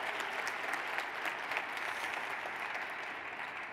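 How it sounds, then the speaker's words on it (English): An audience at a quantum supercomputing talk gives a round of applause. The clapping is steady and fairly distant, holds for a few seconds and fades slightly toward the end. "some kind of round of applause."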